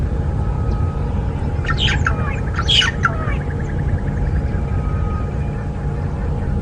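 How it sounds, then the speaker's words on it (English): A starling calls noisily at a game reserve on an evening safari drive, a few sharp squawking bursts at middle distance over a steady low vehicle engine rumble. "There's a starling making a furious amount of noise."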